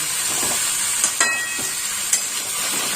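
Vegetables sautéing in a little oil for a Bengali summer jhol stew, a steady close sizzle and hiss with a few sharp crackles and stirring clinks scattered through it, no voices.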